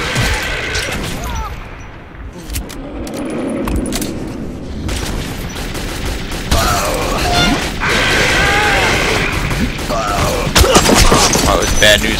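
A railcar-mounted gun fires in the video game Metro 2033 during a chase, loud bursts of gunfire with mechanical clanks and crashes over engine rumble, and a player talks throughout.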